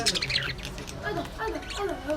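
Pet budgies chirp and warble in a series of short, bright, wavering calls, with a voice talking over them nearly the whole time.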